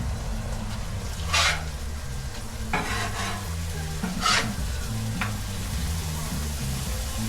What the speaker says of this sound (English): Alright, it's time to flip these things,